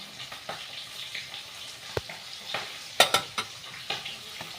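Taro fries in oil with onion and five-spice, giving a soft, close crackling sizzle broken by scattered stirring scrapes and a few sharper clinks of a utensil against the pan.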